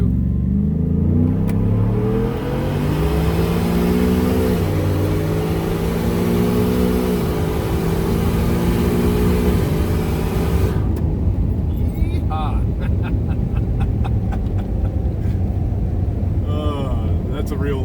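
A 2022 Ford F-150 with a 5.0L Whipple-supercharged V8 on 35-inch tires launches hard from a light in second gear, loud engine roar climbing steadily through rising pitch for about ten seconds before easing off into lower rumble.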